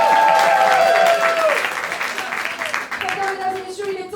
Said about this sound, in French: je vous demande un tonnerre d'applaudissements pour DJ Semoule avec moi.